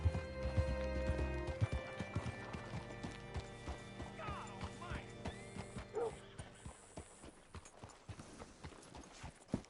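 Horse hooves clip-clop steadily in Red Dead Redemption 2, a rhythmic run of close, distinct hoofbeats with a brief whinny, over low game ambience and music.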